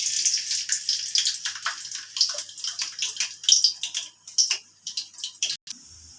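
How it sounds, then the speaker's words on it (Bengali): Garlic hits hot oil in a wok while a cabbage bhorta is being cooked. A bright, crackling sizzle with dense spitting pops goes on throughout, close and fairly loud, and thins into sparser crackles toward the end. "কড়াতে তেল দিয়ে দিয়েছি, তেলটা গরম হয়ে গেছে। প্রথমে দিয়ে দিচ্ছি রসুন।"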